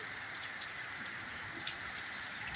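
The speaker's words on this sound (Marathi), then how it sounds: "इतका तुफान पाऊस चालू आहे" Steady rain hammers down on a surface during a storm with hail, a constant hiss with scattered heavier drops, fairly quiet and continuous with no voices.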